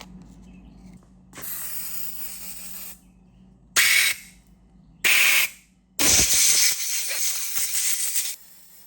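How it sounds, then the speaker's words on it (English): Brake cleaner sprayed onto a part from a 1974 Triumph TR6 in a garage: a soft initial hiss, then several sharp aerosol bursts of rising length, the last a sustained spray of over two seconds, close and loud. "I'm gonna wash it now with brake clean"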